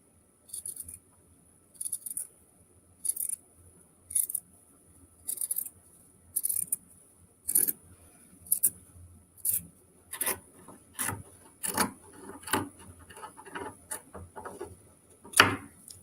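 Scissors cut through a t-shirt in about a dozen evenly paced snips, each a crisp, close crunch with quiet pauses between.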